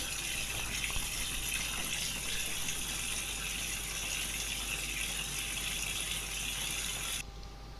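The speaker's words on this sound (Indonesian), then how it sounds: "Nah, ini airnya baru akan terisi." A washing machine filling with water, a steady close gushing rush that runs evenly for about seven seconds before easing off slightly near the end, no talking.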